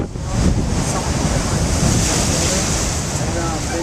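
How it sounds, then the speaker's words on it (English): Storm waves from Hurricane Sandy roll off Cape Cod Bay onto Plymouth Beach, a loud, continuous roar of churning surf mixed with heavy wind buffeting close to the microphone. "the waves coming off of Cape Cod Bay are nothing short of impressive"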